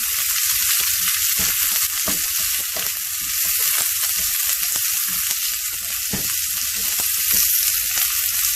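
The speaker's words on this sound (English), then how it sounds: "Once they start spluttering, okay, we will have to add in the onions. Okay, give it a good stir." Onions frying in ghee, sizzling and spluttering steadily with a bright crackle as they are stirred, close and continuous with no talking.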